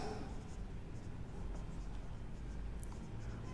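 Pen moving across paper, faint scratchy strokes over a low background hum, close and steady for a few seconds.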